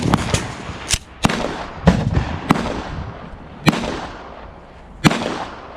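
Sharp gunshots from a 9mm Luger pistol firing steel-case ammunition at an outdoor shooting range, about eight close, loud cracks at irregular intervals, each ringing briefly before fading.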